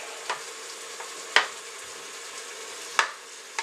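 Homemade Italian sauce simmers in a pot with a soft steady sizzle, broken by a few sharp clatters and splashes as ingredients are dropped in and stirred.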